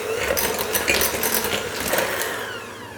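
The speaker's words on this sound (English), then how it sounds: "And then we'll take a hand mixer. You can use a stand mixer if you'd like, and just blend these two together." Handheld electric mixer whirring steadily as it blends softened butter and cream cheese in a bowl, a continuous close motor buzz with a slight grinding texture and no talking.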